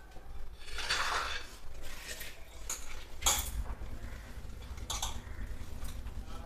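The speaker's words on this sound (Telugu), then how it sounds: "ఇప్పుడు ఇవన్నీ బాగా కలగాలిపోకుందాం" Chopped green chillies being mixed into cowpea vada batter, with soft scraping and occasional utensil clinks against the bowl over a steady low background.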